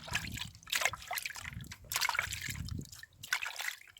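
Large plant roots being washed by hand in water, with intermittent trickling, sloshing and splashing close by that rises and falls in bursts, and no talking.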